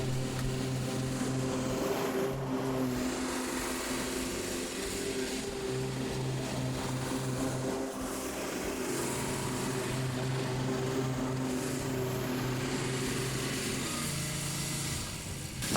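A ride-on lawn mower cutting grass, its engine droning steadily and fairly close throughout with a constant low hum and slight variations in load.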